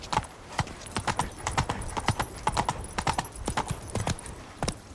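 Hooves of a galloping horse in the video game The Witcher 3: crisp, close clip-clop beats in a quick, uneven rhythm over soft background ambience.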